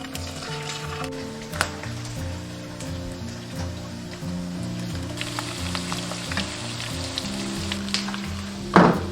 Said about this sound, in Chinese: 油热过后下入五花肉，中小火慢煎